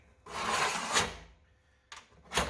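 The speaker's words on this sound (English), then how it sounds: "Got this little Duradyne sheet metal scoring tool. Makes a great quick way to score an inch." A small Duradyne scoring tool drags across sheet metal on a 1974 Chevy K5 Blazer, making a close, rasping scrape that lasts about a second, followed after a pause by two shorter scrapes.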